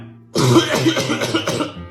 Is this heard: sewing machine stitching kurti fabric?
no